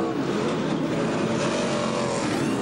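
NASCAR race car engine running rough after a pit stop during the 2001 Cracker Barrel 500, a loud, close, uneven roaring drone that sputters throughout.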